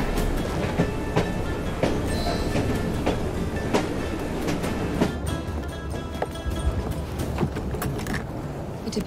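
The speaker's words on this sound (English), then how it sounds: "at least we have a train now" A steam-era train rolls along in Assassin's Creed Syndicate with steady rumbling and rhythmic clickety-clack over the rails. Metallic clanks and squeals sound close and loud throughout.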